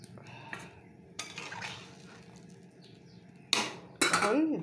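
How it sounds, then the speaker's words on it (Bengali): Pieces of boal fish dropped into a cooking pan, with close metallic clinks and clatter of a utensil against the pan, a few sharp impacts near the end over a faint sizzle. "এখন মাছগুলো দিয়ে দেব।"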